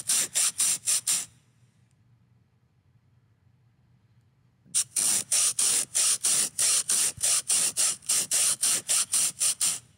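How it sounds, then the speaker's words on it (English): Duct tape is torn off the roll in quick repeated strips, a rapid rhythmic ripping burst, then a pause of near silence, then a longer steady run of loud, close tearing pulls. "That's duct tape."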